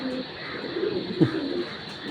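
A brief, soft coo from a Belgian racing pigeon rises over a constant low hum of background noise.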